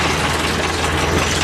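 A 2004 Morbark Blizzard 12 wood chipper runs close and loud while its clutch is eased in, a steady heavy engine drone with faint rattling and no voices.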